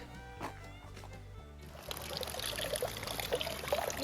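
Spring water pours from a natural spring near Skole, a steady splashing stream that begins partway through after a quieter stretch and continues close and fairly loud.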